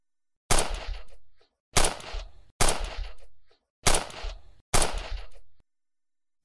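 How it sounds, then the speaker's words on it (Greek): Gunfire from the Turkish quarters of Smyrna in August 1922: five loud, sharp, echoing shots spaced about a second apart, each with a short booming tail, with no voices. "Από τις τουρκικές συνοικίες ακούγονται πυροβολισμοί που εντείνουν την απόγνωση."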